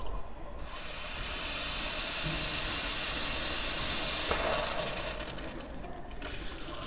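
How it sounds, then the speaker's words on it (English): Steady hissing rush of boiling water and steam pouring from a Quooker Flex tap, close and continuous, tapering off near the end. "Boiling on a double push and turn."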